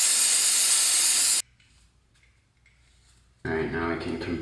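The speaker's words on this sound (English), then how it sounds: "I'm going to spray that off with some brake clean." Aerosol brake cleaner sprayed in a loud, steady hiss for about a second and a half while dirt is cleaned out of a part on a turbo Miata, then quiet, then a second short burst of spraying.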